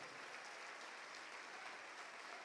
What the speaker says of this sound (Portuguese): Ô glória, vamos aplaudir mais, igreja.